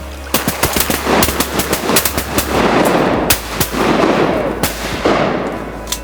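Rapid volleys of loud shotgun shots crack out in quick succession during a duck hunt, some overlapping, with dense rumbling noise filling the gaps between blasts.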